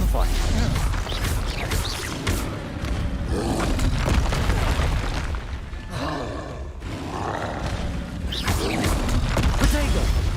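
A Stupefy spell cast during Hogwarts Legacy combat, part of a dense, loud stretch of magical blasts, booming impacts and growling roars that keeps up with little pause.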